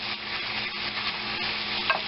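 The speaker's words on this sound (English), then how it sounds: "we're going to keep cooking this until the pork is no longer pink" Ground pork sizzling in a frying pan while a utensil scrapes and stirs it, a close, steady hiss broken by repeated stirring strokes, with no talking.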